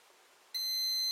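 Timer circuit alarm in a closed loop control setup sounds after the manual overload is tripped: silence, then a loud, steady, high-pitched electronic beep that starts abruptly and holds to the end.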